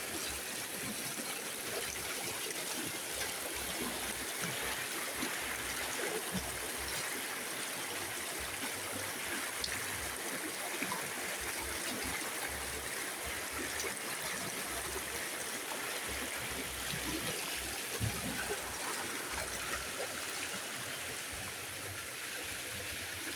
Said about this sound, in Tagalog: dito po kami sa Sapa ngayon.